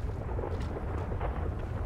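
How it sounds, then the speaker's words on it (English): Explosion in a police role-play video game, a deep, rumbling blast filling the whole short moment with heavy low-end boom and no voices over it. "I just uh, heard an explosion."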